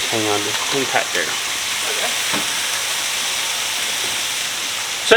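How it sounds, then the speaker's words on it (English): Frozen broccoli sizzles and steams in a pan with a little water, giving a steady broadband hiss throughout, with a person's voice briefly audible at the start. "So you need a lid to steam the broccoli and some water."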